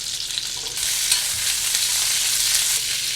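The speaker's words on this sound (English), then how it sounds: "what I like about using the roasted garlic oil is that it gets hot enough to blister the green beans" Green beans blistering in hot roasted garlic oil, a bright steady sizzle that jumps louder partway through as they are stirred, close and without talk.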